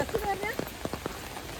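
Steady rain patters outdoors on a misty forest trail at Kodanadu, a dense wash with brief louder drops close by, while people talk over it.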